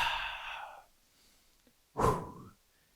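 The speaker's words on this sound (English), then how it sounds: "Big inhale, big exhale" One long, deep exhale trails off, followed after a short pause by a sharp, loud inhale, close up during a beginners' chair workout.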